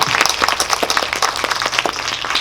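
Audience applause at a Korean cinema Q&A screening for the film Kingmaker, with a crowd clapping in quick, uneven bursts and a low hum beneath. It is short, fairly close and has no speech.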